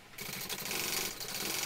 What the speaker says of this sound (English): I am going to do a second row of stitching just next to the first one.